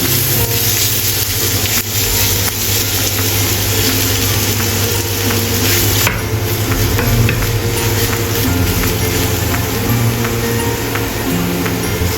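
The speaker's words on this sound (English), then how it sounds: "Stir-fry king oyster mushrooms until release fragrance" King oyster mushrooms stir-fry in a hot wok, sizzling steadily and loudly with constant scraping and tossing from the spatula the whole way through.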